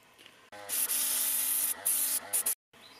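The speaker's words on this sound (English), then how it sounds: "So I've been spraying the ballast now with a mix of brown as normal and grey" An airbrush sprays a brown and grey weathering mix onto model railway track ballast, giving a loud, close hiss in long bursts that cut off briefly between passes, with faint background noise before and after.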